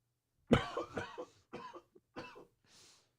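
A person coughs several times in quick succession, close and fairly loud, each burst separated by short pauses, ending with a softer breathy exhale.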